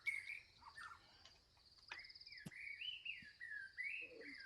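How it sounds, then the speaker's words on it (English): Birds chirp and whistle in trees in a calm outdoor setting, with sliding calls and short tweets over faint insect or cricket buzz, fairly close and moderately quiet. "birds up in the trees, noises and things like that. Maybe some crickets or things in the grass."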